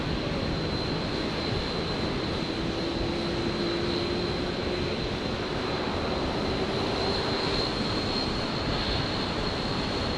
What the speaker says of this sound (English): The 737-300s Classic touching down from Nauru.